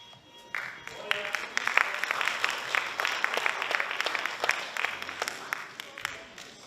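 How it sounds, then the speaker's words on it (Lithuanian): Applause from the audience in the hall at a NABBA men's fitness contest, a steady patter of many hands clapping for several seconds at moderate distance, with a voice speaking over it. "Plojimai salėje."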